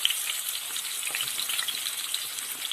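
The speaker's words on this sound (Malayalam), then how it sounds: "ഈ ഒരു സമയത്ത് നമുക്ക് സവാള ആഡ് ചെയ്ത് കൊടുക്കാം" Sliced onions go into hot oil for Hyderabadi dum biryani, giving a soft, steady crackling sizzle with fine irregular pops and no talking.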